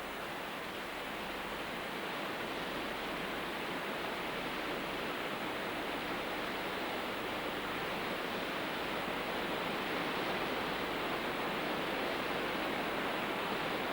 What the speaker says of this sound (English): The mighty Iguazu River is funneled into a much narrower and fast-flowing channel by means of a vast complex of 275 separate waterfalls.